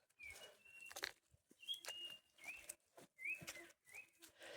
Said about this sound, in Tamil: இந்த குருவிகளோட ஓசையை கேளுங்களேன், அப்படியே விசில் அடிக்கிற மாதிரியே இருக்குல்ல.